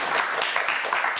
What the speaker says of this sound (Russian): Кирилл, аплодисменты для вас